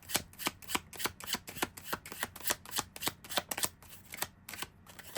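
A deck of tarot cards is shuffled close by in a quick, steady run of crisp riffling slaps, with no talking.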